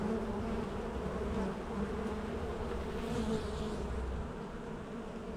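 Honeybees inside a hive with robber bees trying to get out, a dense, steady, loud buzzing drone close up, with faint tapping as bees strike the plexiglass cover.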